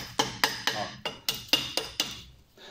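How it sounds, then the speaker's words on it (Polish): A welding chipping hammer's axe-shaped end tapping metal in a quick series of about eight crisp, ringing strikes, close and clear, fading out toward the end. "a z drugiej strony taka siekiereczka, też pok, pok, pok."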